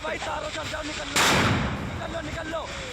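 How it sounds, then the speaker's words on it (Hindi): A sharp loud blast cuts through as an oxygen cylinder explodes in a fire at a baby care centre in Delhi, followed by a decaying rumble, with agitated shouting voices before and after. "जिसमें लगातार धमाके की आवाज आप सुन सकते हैं।"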